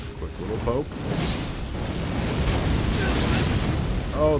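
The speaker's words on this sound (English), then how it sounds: "the explosion of the Mesmer's orb" A magic orb from Mesmer explodes in an Elden Ring boss fight, a loud rumbling blast that fills the whole clip with dense, roaring noise.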